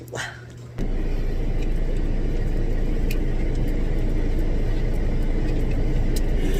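Inside a car as it starts moving: a quieter moment, then the steady broadband rumble of engine and road noise fills the cabin and holds constant, with a few faint ticks on top.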